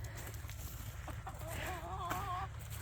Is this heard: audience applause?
no